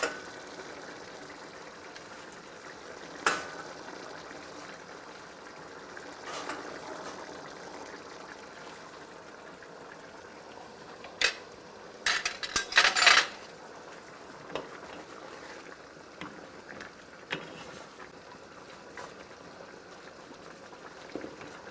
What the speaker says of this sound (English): You gotta turn the pasta stick on the bottom.